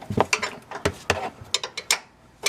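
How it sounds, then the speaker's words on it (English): A long 15mm wrench works loose nuts on a Land Rover air strut, giving a series of sharp metallic clicks and ratcheting taps in an irregular rhythm, close and moderately quiet. "you're going to take your 15mm and you're going to put it on the 2 remaining nuts"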